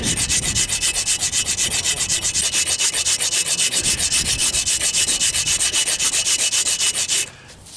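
A wood file is worked across limestone in quick, rhythmic rasping strokes, loud and close, a steady scraping rub repeated dozens of times before stopping near the end.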